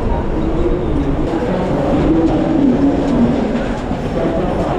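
A passenger train at Dadar station rumbles steadily and loudly, a dense, continuous roar of wheels and carriages with no clear breaks.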